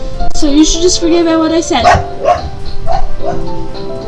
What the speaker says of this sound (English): I don't know if you guys can hear her barking or not